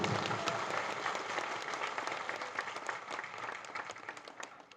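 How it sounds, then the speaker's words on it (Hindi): Audience at a religious sermon applauding, a dense, sustained patter of many hands clapping that slowly fades, fairly distant in a hall. "आपके ताली बजाने से"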